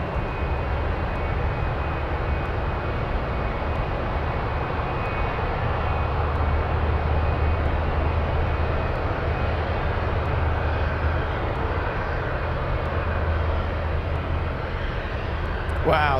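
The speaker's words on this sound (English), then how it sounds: "let's go for the Hercules racing down the runway" A Hercules cargo plane racing down the runway on its takeoff roll at an airport in Anchorage, a steady, loud broadband propeller-engine roar sustained throughout, with a faint high whine on top.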